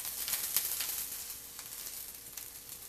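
Romaine lettuce halves sizzle cut side down in olive oil on a grill pan, a soft, steady crackling fry with small pops, fairly quiet and close, with no talking.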